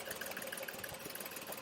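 A Maruti WagonR with about 170,000 km on it idles on petrol, giving a steady, faint engine hum with a light repetitive ticking throughout and no voices.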